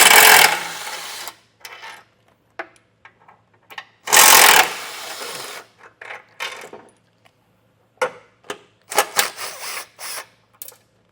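Power tool removing 16mm bolts from a 2024 Jeep Grand Cherokee bumper: two loud, sustained whirring bursts followed by short ratcheting spurts, clinks and handling noises, all close by.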